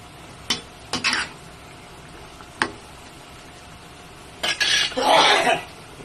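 A metal pot lid is lifted off a simmering Filipino vegetable dish with bagoong, giving a few short clanks and clatters followed by a brief louder burst of hissing steam and rattling near the end, with quiet kitchen background between.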